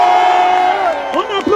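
A rally crowd cheers and shouts loudly, a sustained chorus of voices with whoops rising over it, close and dense throughout.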